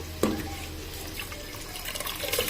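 Water for chicken biryani rice boils in a pot, a steady close bubbling and hissing wash that runs unbroken throughout, with a small knock near the start and no voices.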